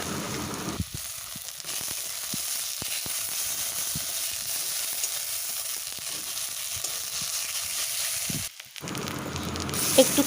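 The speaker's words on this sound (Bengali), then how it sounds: "দিয়ে দিচ্ছি ধনে পাতা আর কাঁচা লঙ্কার বাটা ওটা দিয়ে একটু কষিয়ে নেবো" Coriander leaf and green chilli paste sautéing in a pan for a Bengali fessa fish curry, a steady hiss and sizzle running on continuously with faint stirring, fairly quiet.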